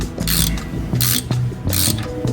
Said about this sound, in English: the electronic parking brake (EPB). It does a procedure to calibrate. It goes in and out until it finds where it should be on and off.